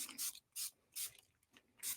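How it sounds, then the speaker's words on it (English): Hand-pumped spray bottle misting tea dye onto handmade calligraphy paper: four separate hissing spritzes at a steady pace, close and clear, with quiet pauses between and no talking. "So I'm going to do just a little tea dye spray"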